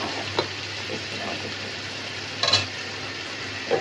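Onions frying in a pan for dal, a steady close sizzle with a few brief scraping stirs and clinks, no talking.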